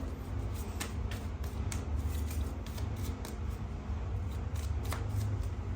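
Tarot cards are shuffled close by in a steady papery riffle, with several sharp snapping flicks as cards are handled and picked, no voices over it.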